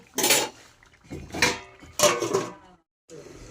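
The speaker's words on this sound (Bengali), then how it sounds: "মাছের মাথাগুলো দিয়ে আমি আবার চাপা দিয়ে" A lid clatters onto a pot of simmering moong dal after fish heads go in, giving three short metallic clanks close by, followed by a brief silence and a quieter rattle.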